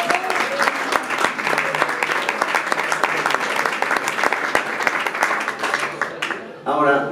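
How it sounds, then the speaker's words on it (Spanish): A live audience at a band's evening show applauds steadily, the dense clapping running for several seconds while a voice talks over it, then dropping away near the end. "El aplauso continúa para toda la gente de gastronomía en la casa"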